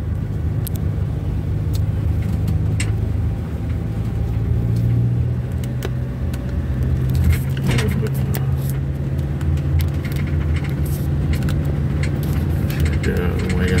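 Vehicles passing on a road near a bridge at night, a continuous rumble of engines and tyres with occasional louder passes, while someone talks over it.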